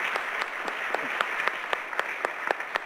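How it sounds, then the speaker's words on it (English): An audience at a legislative roundtable discussion gives a steady round of applause. Many hands clap in a dense, even patter that holds for the whole moment, with a few sharper claps standing out near the end. "How about a round of applause for great work?"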